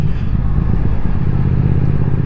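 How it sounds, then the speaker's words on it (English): A 2021 Triumph Speed Twin motorcycle riding off the throttle gives a loud, steady low exhaust rumble and burble, close and continuous, with no talk over it. "When you go off the gas, you get a little bit of a burble there."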